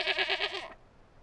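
Goats bleat in a cartoon in rapid repeated cries, about five quick wavering bleats packed into under a second, loud and close, then silence.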